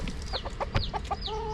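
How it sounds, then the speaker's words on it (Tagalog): Several chickens clucking close by in quick, uneven bursts, with a higher drawn-out call near the end. "Yan yung ating dalawang natitirang manok."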